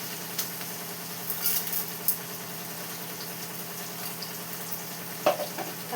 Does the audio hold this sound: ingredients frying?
yes